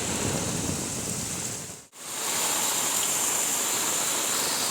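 Heavy cloudburst rain pours steadily in a dense, loud hiss during flooding in Kharantar, Kankavli, with a brief dropout partway through before the downpour resumes just as strong.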